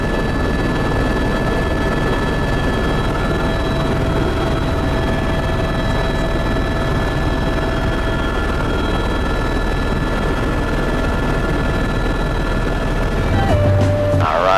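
A tour helicopter thrums steadily over the Grand Canyon in Arizona, heard from inside the cabin as a loud, continuous rotor and engine drone with a faint whine, ending with a short electronic tone.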